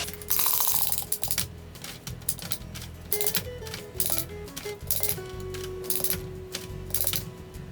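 A hand-cranked jerky gun pressing ground meat strips onto a tray, with repeated loud ratcheting clicks and mechanical squeaks in uneven bursts, close up.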